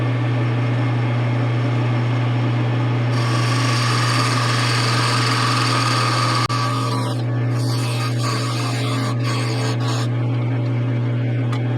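A parting tool cuts into a spinning wooden rolling pin on a lathe, giving a loud, steady rasping scrape over the motor's constant hum for about twelve seconds, with the tone shifting partway through.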